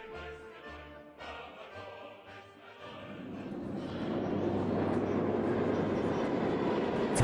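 A Moscow metro station with trains: after a quieter stretch, a deep rail rumble swells and holds loud and steady as a train moves through the underground station.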